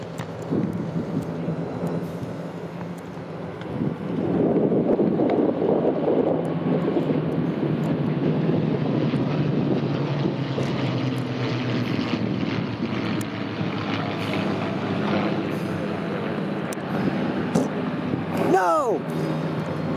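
A P-51 Mustang propeller fighter touches down on the runway at the Bremerton Airport airshow, giving a steady, broad engine drone mixed with wind noise that swells slightly and holds throughout.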